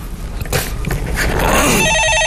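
A telephone rings on a Korean stock-market call-in radio show, with a loud warbling ring that starts near the end over studio background noise.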